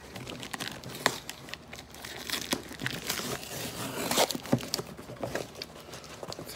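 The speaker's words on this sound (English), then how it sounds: "I need something to open up this box" A cardboard box package being opened by hand: close crinkling, tearing and crunching with irregular bursts of rustle, no talking.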